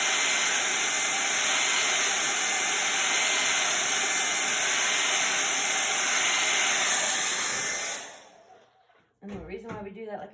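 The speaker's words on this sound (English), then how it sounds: "So we're going to get the blow dryer" A blow dryer held back from a Chalk Couture chalk transfer blows a loud, steady whooshing whir for about eight seconds, then switches off and a voice starts talking.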